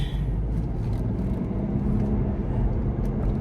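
Steady road traffic rumbles around a Ford Bronco Sport Big Bend on a drive through roundabouts, a continuous low wash of engine and tire noise with no talking.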